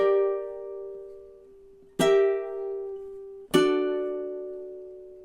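Chord melody ending on ukulele: one sustained fingerpicked chord rings and fades, then two strummed chords strike at about two and three and a half seconds, each ringing out clearly on its own.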